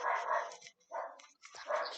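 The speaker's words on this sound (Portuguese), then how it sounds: "Cachorro do inferno." Small dog barking in three short yappy bursts with brief gaps between them, fairly close and loud, with no voices.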